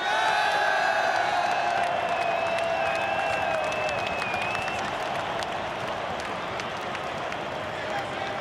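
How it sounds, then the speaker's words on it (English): A stadium crowd applauds and cheers for the Socceroos after a FIFA World Cup shoot-out against Uruguay, a dense, sustained roar of clapping and whoops with a few whistles rising above it. "Once more, a huge applause for these guys."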